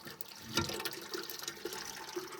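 Water splashing and running from a garden hose, filling a pond outdoors, a steady wash of flow with one brief louder gush and no voices.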